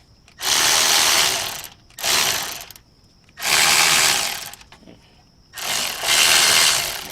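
A ratcheting tool tightens a bolt on the brakes of a 2014 Chevy Malibu, giving four loud buzzing bursts of rapid clicking separated by short quiet pauses.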